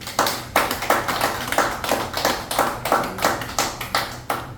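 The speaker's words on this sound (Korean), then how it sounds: "큰 박수 한번 부탁드립니다" An audience clapping at a Korean event after a speaker is introduced: a steady run of sharp claps with an even rhythm, fairly close and unaccompanied by voices.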